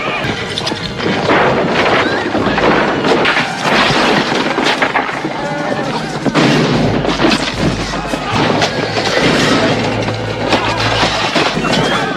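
Chaotic loud rumbling with crashes and booms as horsemen storm a miners' camp, horses whinnying amid the commotion, a dense continuous roar of a violent charge.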